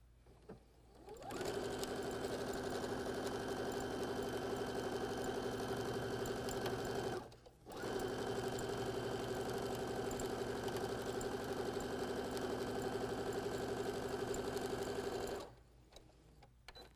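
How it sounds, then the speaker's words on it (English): Sewing machine stitching a straight seam joining quilt pieces from 5-inch pre-cuts, a loud, steady, fast mechanical hum running in two long stretches separated by a brief pause. "just stitch a nice straight seam"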